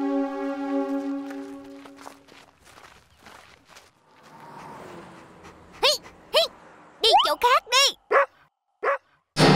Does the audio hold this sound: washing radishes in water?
no